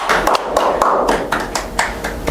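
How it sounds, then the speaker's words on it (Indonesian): Brief applause breaks out among an audience in a gathering honoring a village head in Klampok, a few sharp claps and taps heard up close, uneven and sparse rather than a full ovation. "Siap, tepuk tangan dong."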